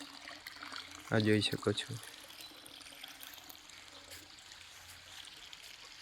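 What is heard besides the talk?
hot spring water flowing out into a pool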